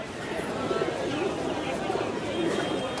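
Pigeons coo in soft, repeated low bubbling calls at the busy Galiff Street pigeon market in West Bengal. Steady crowd chatter and people talking nearby fill the background.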